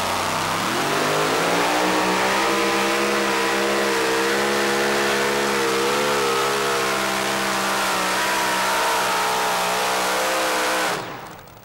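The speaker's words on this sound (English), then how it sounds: "Will Teasley was able to get in the throttle pretty early, but it didn't pay off." Super modified pulling tractor engine at a pull track in Fairfield, Illinois, screaming at high revs in one long sustained roar with wavering pitch, loud and close until it drops away at the end.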